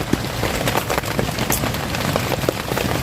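Light rain patters steadily on a campsite at the foot of Mount Susuru, a dense, even hiss of drops with scattered sharper taps throughout, close by and unbroken, with no voices.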